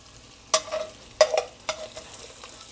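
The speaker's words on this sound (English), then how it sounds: "it's going to be easier for me to take the sausage out and put it in a bowl temporarily" Cooked sausage scooped out of a heavy Dutch oven into a bowl, three sharp metallic clanks of utensil on pot spaced about a second apart, with a soft sizzle trailing after each.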